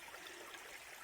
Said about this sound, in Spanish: Mirad el agua cómo suena